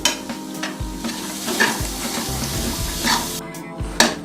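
Green chilies, carrot and grated coconut sautéing in a pan for peas pulao, a close, continuous sizzle with rhythmic scraping stirs and the odd knock of the spoon.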